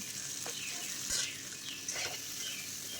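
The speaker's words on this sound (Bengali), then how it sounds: "এখন আলুগুলোকে ঢেলে দিলাম" Potatoes tipped into hot oil with whole cumin seeds, giving a steady bright sizzle with small crackles and a few stirring scrapes, close and continuous.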